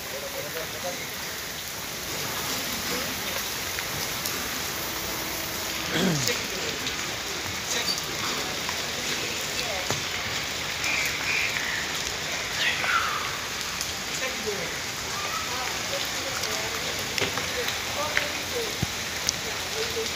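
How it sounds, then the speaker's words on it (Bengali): Steady rain falls outdoors during a bike ride with tea, a dense close patter and hiss on surfaces throughout, with faint voices and scattered drips beneath. "ও, চায়ের মধ্যে বৃষ্টির পানি পড়ছে।"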